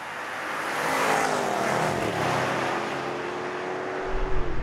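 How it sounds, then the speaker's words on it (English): A Porsche Cayenne Turbo V8 SUV drives hard on the Brands Hatch circuit, its engine a loud, sustained roar with a rising pitch as it pulls down the straight, steady for several seconds before a low rumble at the end. "It's just a monster in a straight line, the Porsche."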